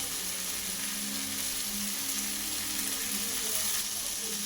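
A steady, loud sizzle of long beans frying in oil as a paste of ground poppy seeds and white mustard is stirred in, with a continuous hiss and faint scraping throughout.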